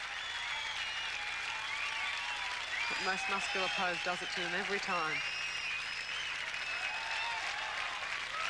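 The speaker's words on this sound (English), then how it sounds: "Sending the crowd absolutely wild." A crowd at a professional bodybuilding championship in Sydney keeps up sustained applause and cheering, while an announcer talks over it and a brief rhythmic voice passage cuts in midway.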